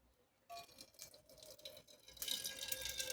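After a brief silence, water starts pouring over rice papad batter, trickling and splashing and growing louder toward the end.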